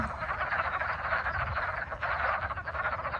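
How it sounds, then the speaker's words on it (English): A dense chorus of frogs croaking continuously in a mid-February pond at Oregon Ridge Nature Center, many voices overlapping into a loud, pulsing drone close by. "Oh my gosh, there's so many frogs."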